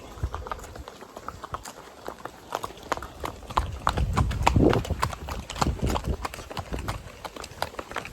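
Horse hooves clip-clop steadily on the ground during horseback riding, in a close, irregular rhythm of many hits that swells briefly midway, with faint background sounds.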